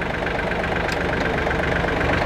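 A Yanmar FX 265 Japanese mini tractor engine runs steadily nearby, a loud, even diesel chug with a constant low rumble and no voices.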